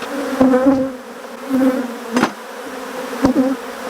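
Africanized honey bees buzzing close by in uneven bursts, the drone rising and falling as they fly past, with a few sharp taps between.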